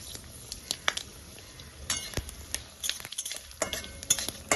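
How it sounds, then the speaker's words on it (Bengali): Five-spice and dried red chillies tossed into hot oil for khichuri, crackling and sizzling in bursts while a utensil stirs and clinks against the pan, close and fairly loud, with no talking. "তেল গরম হয়ে গেছে দেখে নিলাম, দিয়ে দিচ্ছি 5 ফোড়ন।"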